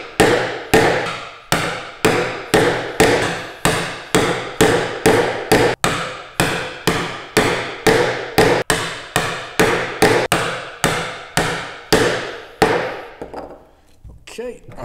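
Steady, evenly spaced mallet blows drive a chisel into wood to chop a hand-cut mortise for a mortise and tenon joint, some thirty close, loud thuds in a regular rhythm before they stop near the end.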